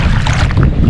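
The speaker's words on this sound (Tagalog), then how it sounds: "Sa hangin ba sobrang lakas." Strong wind buffets the microphone at a seashore, a loud, steady low roar with gusty rumbling that fills the whole moment without pause.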